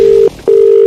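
A telephone call tone from a prank phone call in progress: two long, steady electronic beeps separated by a short pause, loud and clear with no voices over them.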